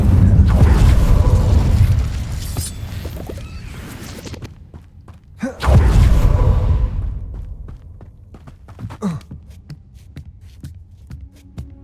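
Two heavy magical fire bursts from an Incendio spell cast in a video game, each a deep whooshing boom that decays over a couple of seconds, followed by scattered clicks and footsteps, with no talk.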